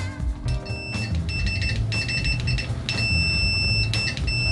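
ProMaster test leads on a SANWA CD772 TRMS digital multimeter trigger the continuity beeper, a loud, steady high-pitched tone that latches on and holds, briefly broken by a few short gaps, over a low rumbling background.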